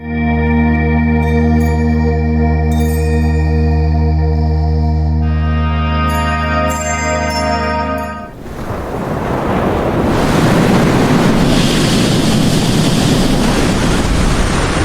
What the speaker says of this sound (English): the sea, which had just been calm, turned windy and was surging with waves